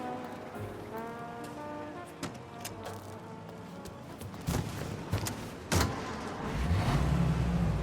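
A car engine hums in Mafia: Definitive Edition, a steady low drone that swells louder toward the end, with a few sharp clunks and bursts along the way.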